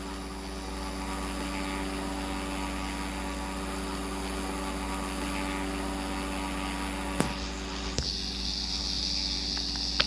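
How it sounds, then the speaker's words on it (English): Stunt plane engine in the video game Vehicle Legends: a steady, fairly quiet droning hum held evenly throughout, broken only by a couple of sharp clicks near the end. "The stunt plane's way quieter."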